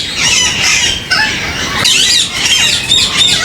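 Breeding pair of pahari (Alexandrine) parrots on a parrot farm: loud, harsh squawks and screeches follow one another almost without pause, very close and filling the whole stretch, with no talking.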